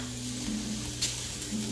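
Peppers, onions and sweet potatoes sizzle steadily in a hot pan while sauteing, a close, continuous crackling hiss with a few brief sharper pops and soft stirring scrapes, no talking.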